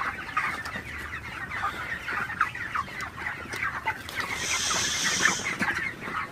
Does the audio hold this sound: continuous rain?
no